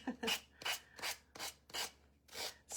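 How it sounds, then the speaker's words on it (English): A hand-held power sander smooths the edges of a lemon-themed craft piece in six short rasping passes, each a bright scratchy burst with brief gaps between, quiet and close with no talking. "Let me go ahead and get my sander though, and I'm going to get rid of these edges"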